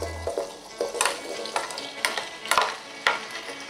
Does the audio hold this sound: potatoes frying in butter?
yes